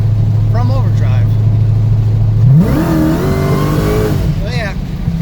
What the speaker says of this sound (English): Let me go ahead and give it a test, wide open throttle, and see if it actually goes into second gear from overdrive.